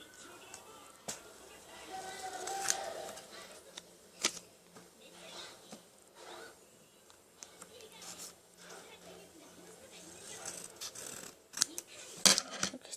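Scissors cut a paper name card to size for a handmade name card. Crisp snips and rustling paper come in irregular bursts while people talk throughout.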